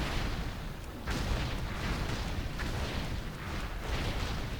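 Rumbling cannon fire in the World of Warcraft game, a dense, continuous barrage of booms with stronger blasts near 1 and 3.7 seconds, loud and alone with no voices.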